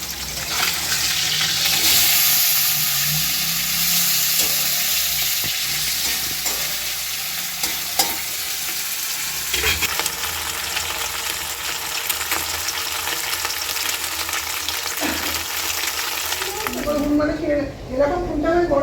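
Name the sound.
fish frying in a pan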